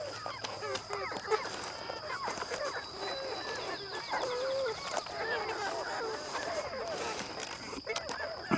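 Several chickens cluck and murmur close by in a busy mix of short overlapping calls, with a faint steady high tone behind them.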